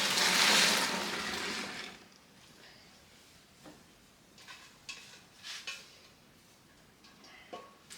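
Water rushes into a 5-gallon bucket holding washing soda, borax and melted soap for homemade detergent, a loud steady splashing pour for about two seconds, then fading into quieter sloshing and faint clinks.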